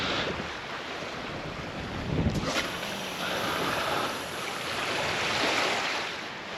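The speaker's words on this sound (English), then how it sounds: "if that wind would disappear, it would be lovely. But that wind is bitter" Cold, bitter wind gusts steadily across a microphone by the sea while fishing, a broad roaring rush with surf beneath it and no talking.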